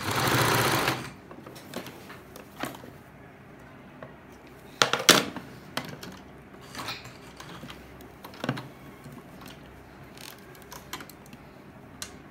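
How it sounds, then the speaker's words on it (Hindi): A sewing machine runs in a loud burst at the start, then gives short intermittent stitching runs and clicks while a side pocket is sewn onto a salwar, close and with no talk. "तो इस तरीके से दोनों तरफ हम टांका लगा देंगे।"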